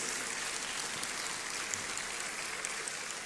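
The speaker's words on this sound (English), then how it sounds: "Shall we do a big round of applause for the Commissioner General of the Ghana Immigration Service" Applause from an audience at a Ghana citizenship ceremony, honouring the Commissioner General of the Ghana Immigration Service: a dense, even wash of many hands clapping, fairly distant and steady throughout with no voices.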